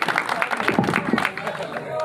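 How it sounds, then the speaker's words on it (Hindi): An audience at a Hindi-language gathering claps after a speech, a dense, steady patter of many hands with crowd voices and cheers mixed through it. "तालियों में थोड़ी सी कमी नजर आ रही है"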